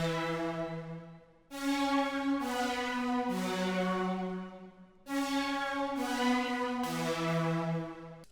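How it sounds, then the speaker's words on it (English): Synth pad from an FL Studio beat, long sustained chords that swell and change every second or so, with a brief dip before the phrase repeats, smooth and unaccompanied by voice. "we're going to add the pad. It's going to sound like this."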